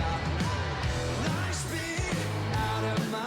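A full band groove with guitars and bass, where the drummer plays an open hi-hat and the bass drum follows the bass and guitar pattern. It is a steady, dense and loud mix with repeated kick thumps and a washy cymbal on top.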